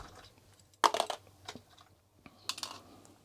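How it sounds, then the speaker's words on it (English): Keycaps snapping off an Amstrad CPC 664 keyboard, a few sharp plastic clicks and rattles in a quiet room, two distinct bursts separated by near-silence. "then I take off the keycaps and clean those as well"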